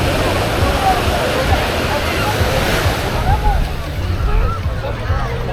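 Rough, agitated surf washes steadily onto Canasvieiras beach in Florianópolis after days of rain, a continuous loud roar of breaking waves mixed with wind buffeting the microphone.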